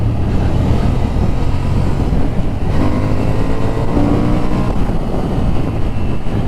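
A 2025 Honda Hornet 750 motorcycle pulls out of a bend on the road, its engine a loud, continuous drone that swells as it accelerates, heavily mixed with the rush of wind, with no talking.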